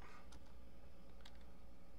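A computer keyboard being typed on, with a few sharp clicks standing out over a steady hum, quiet and close.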